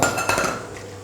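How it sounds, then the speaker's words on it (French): Printemps vegetables tumble into a metal frying pan with a quick clatter of clinks and knocks, close and brief, then fade. "Nous allons cuire les légumes en les versant dans une poêle"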